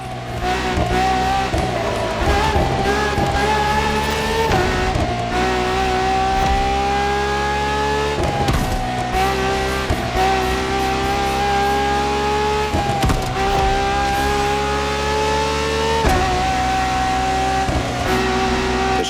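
A Ferrari V12 hybrid supercar engine roars in The Crew Motorfest, loud and sustained, rising through the revs with repeated gear-shift dips and climbs.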